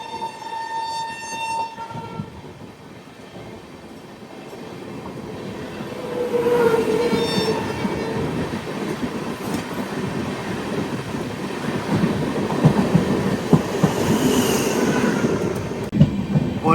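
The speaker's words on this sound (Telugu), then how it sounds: "ఇంకో లోకల్ ట్రైన్ వస్తుంది." A local train passes near Chennai, heard from aboard an express: a loud, drawn-out horn opens, then a rolling rumble of wheels and carriages builds and stays close to the end, with no talking.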